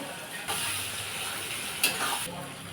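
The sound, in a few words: onions and green chillies frying in oil for chilli chicken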